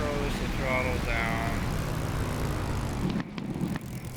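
Spitfire Mk IX piston engine in the DCS flight sim running at reduced throttle: a steady, close rumble with a sharp pop near the end, while someone talks over it.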